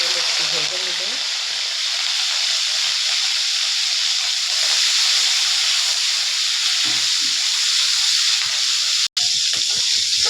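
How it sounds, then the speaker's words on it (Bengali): Prawns frying in hot oil, a loud continuous sizzle and hiss filling the whole stretch close by, with brief crackles and a momentary dropout near the end. "চিংড়ি মাছগুলি আগে তেলে একটু ভেজে নেব।"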